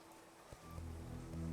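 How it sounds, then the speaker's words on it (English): Rain falls in the Clanfolk video game, a soft, steady hiss that continues under a faint low hum, with one brief sharp tick partway through. "Oh, it's going to be raining on them?"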